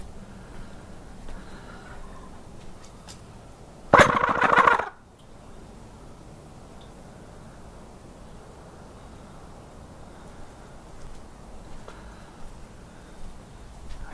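A wild turkey gobbles once outdoors, a loud rattling call about a second long standing out against steady faint wind-like background noise.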